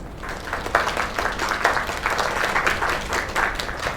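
An audience gives a round of applause after a singer's performance, a dense, even wash of clapping that holds steady and fairly loud for the full few seconds with no speech over it.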